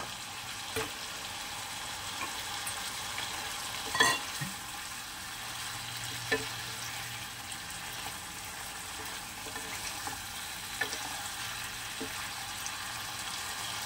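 Fried tangra fish goes into a sizzling, sugar-sweetened spice masala in a Bengali fish curry, with a continuous soft frying hiss and occasional light stirring taps and clicks, no voices.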